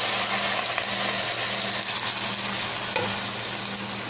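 Marinated chicken for adobo sizzles loudly in a pan, a constant frying hiss with a faint steady hum beneath and a brief scrape of a utensil as it is stirred.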